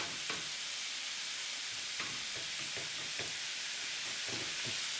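Bacon and turkey sizzle together across a pan, a steady broadband frying hiss with scattered crackles and pops, close and constant throughout.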